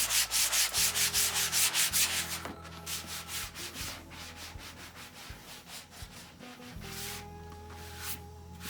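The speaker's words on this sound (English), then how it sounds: "we'll take our sanding block and we'll again go over it" A sanding block rubs back and forth over a dry coat of homemade fiberglass, steady rhythmic scraping strokes at close range, fast and regular at first, then looser, with a low background hum throughout.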